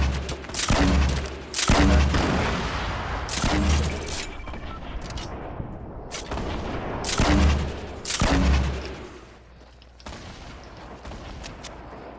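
Bolt-action rifle shots in a video game fire loud and near, each sharp crack spaced about two seconds apart with a booming tail and rolling echo between, the fire thinning out toward the end; no talk.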